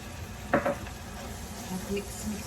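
Ground beef seasoned with black pepper, salt, paprika and cumin stirred in a frying pan, a faint low sizzle under a brief scrape of the utensil against the pan, close up.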